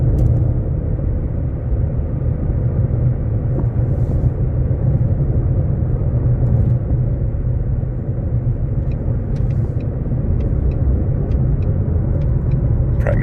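Ford Mustang GT350 engine droning steadily as it heads onto the freeway, a loud continuous low rumble with road noise throughout and a few faint clicks near the end.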